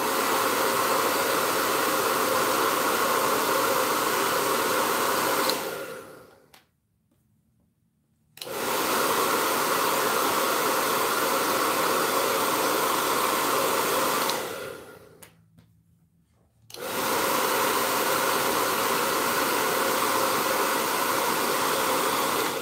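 Hair dryer blowing over paint on an MDF Easter plaque, a loud steady whooshing roar that switches off twice for a second or two each time before starting up again.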